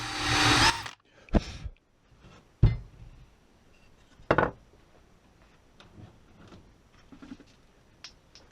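A power drill bores pilot holes into scrap wood while building shelves: one loud burst of drilling, then several shorter, sharper bursts separated by quiet gaps, with no voices.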